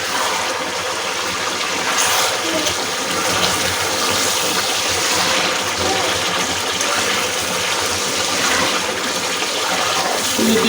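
Chicken curry (kosha-style country chicken) sizzles steadily as it is stirred and sautéed in a pan, a continuous close hiss and crackle with no talking.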